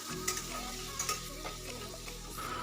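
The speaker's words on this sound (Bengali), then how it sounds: "জলটা দিয়ে আমি একটু কিছুক্ষণ নাড়াচাড়া করে নেব" Soya chunks stirred with water in a pan, a steady wet sizzle with light scraping strokes and a few small clinks, close and continuous with no talking.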